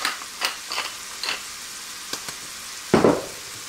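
Beef fillet for beef Wellington, salted and peppered, searing in a hot pan: a low steady sizzle broken by sharp crackles and pops, with one louder burst near the end, no voices.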